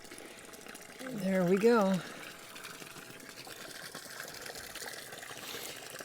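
An Alpine pond pump runs in a bog filter for a decorative pond, giving a faint, steady rush of flowing water under a brief spoken remark.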